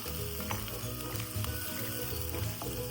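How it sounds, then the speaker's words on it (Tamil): Chopped onions frying pakoda style in hot oil, a dense, steady sizzle close by with soft bubbling and occasional stir sounds. "அப்படியே பக்கோடா ஸ்டைலில் வந்து ஆனியன்ஸ் ஃப்ரை ஆயாச்சு"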